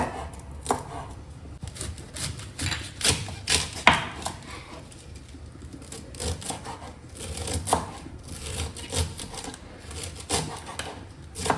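A knife chopping cabbage on a cutting board, close, irregular thuds and taps in quick bursts with short pauses, no talking.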